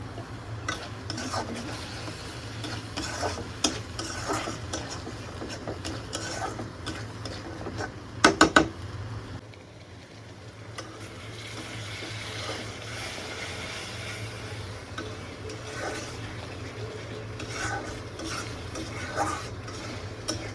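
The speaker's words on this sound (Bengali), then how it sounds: "আমি মশলাটা কষতে দিয়েছি, এই কষা মশলারই যা ঘ্রাণ" Spice paste frying and being stirred in a pan for a brain bhuna curry, a steady low sizzle with scraping stir strokes throughout and a brief sharp clatter of a utensil midway.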